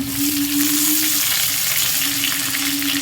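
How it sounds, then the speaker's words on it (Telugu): Okra hits hot oil with dried red chillies and curry leaves, giving a loud, continuous close sizzle with a faint steady hum beneath. "ఇప్పుడు మనం ఇట్లాగా పొడి అంతా పెట్టుకున్న బెండకాయని అయితే వేసేసుకుందాం"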